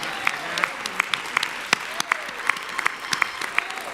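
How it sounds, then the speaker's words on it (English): A town hall meeting audience on local reparations claps for itself, a scattered crowd giving a fairly light round of applause with sharp individual claps standing out and a murmur of voices underneath. "Stand up and give yourselves a round of applause"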